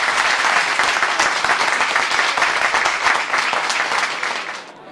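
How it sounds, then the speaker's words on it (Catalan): Sustained applause from the public gathered in a town council's plenary hall greets the newly invested mayor, a dense, steady clatter of many hands for several seconds before tapering off at the end. "va ser aplaudit per el públic congregat al Saló de Plens"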